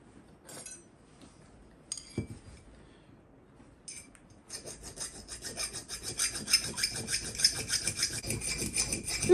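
Power filing tool running steadily as it puts a slight chamfer on workpiece edges, a rasping grind that builds louder over the second half after a few scattered clinks and taps.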